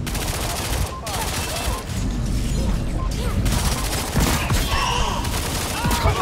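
Rapid bursts of gunfire from the shooter game Lawbreakers crackle densely and continuously, loud and close, with brief gaps between volleys.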